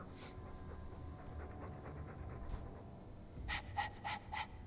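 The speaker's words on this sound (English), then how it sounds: "He didn't bark, he's just panting." Dog panting in the video game Dragon Age II, a quiet, steady rhythmic breathing that stays faint and close, with no speech over it.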